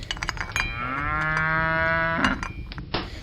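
A cow gives one long, loud, close moo lasting over a second, with a few faint clicks and rustles around it and no talking.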